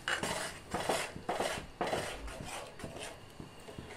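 A spoon scrapes and clinks against a pan while boiled green moong dal is stirred in with salt and chopped coriander. Repeated close metallic scrapes and knocks run throughout, with no talking.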